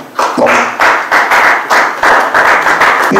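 Audience at a church sermon claps in loud, rhythmic bursts, about eight sharp surges close by with no talk over them.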